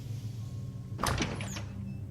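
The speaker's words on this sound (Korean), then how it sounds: "안방에서 누군가 문을 열고 나오는 소리가 들렸습니다." A door in a home's master bedroom opens in a horror audio drama, a short creak and thud in the middle of a steady low hum, fairly close and moderately loud, with no voices.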